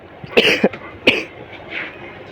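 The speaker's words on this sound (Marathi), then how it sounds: "खोकली झाली मित्रांनो मला" A man coughs at home, several sharp coughs spaced across a couple of seconds, close and fairly loud, with a softer throat sound trailing off and no speech.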